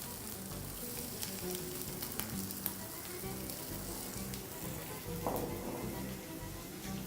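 Sausages and onions fry in a pan for a feijoada-style dinner, with a steady broadband sizzle running throughout, a brief louder burst of crackle near the end when more food hits the hot oil; no voices.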